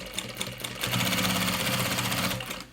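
Sewing machine running steadily while stitching a baby bag, the rapid needle rhythm building to a sustained loud whir after a few short bursts.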